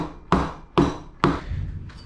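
Hammer tapping a go-kart brake disc along its axle, three sharp metallic knocks at an even pace followed by a softer fourth tap, close and clear.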